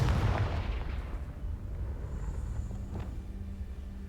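Confringo blasting spell going off in the video game Hogwarts Legacy: a strong burst at the start that fades into a rumbling, crackling tail, followed by a fainter secondary thump about three seconds in.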